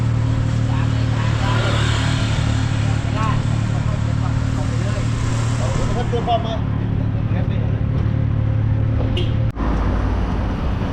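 Loud Thai auto-rickshaws roar past on a busy street like racing bikes, their engines forming a constant, heavy traffic din that cuts off abruptly near the end.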